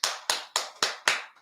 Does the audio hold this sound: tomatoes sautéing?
no